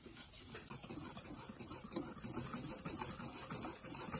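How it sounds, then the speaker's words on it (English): Flour, baking powder and salt being whisked together in a bowl, giving a steady, soft, scratchy rustle with fast, even strokes that continue without a break. "And we're going to whisk this together."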